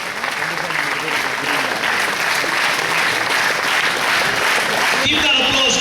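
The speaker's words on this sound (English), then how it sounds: "let's keep the applause going as these 6 teams step down" Applause from a large audience at a national rural schools competition final as six champion teams step down from the stage, a dense steady clapping that carries on throughout.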